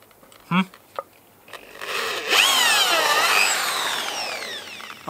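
A power drill whines loudly and steadily into wood for a few seconds while building a fence, winding up in pitch, after a couple of short knocks and brief sounds.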